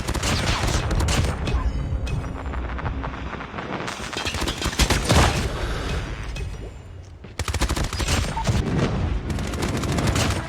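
Rapid automatic gunfire from a Type 25 rifle in COD Mobile, loud dense bursts of shots running almost continuously with a brief break partway through.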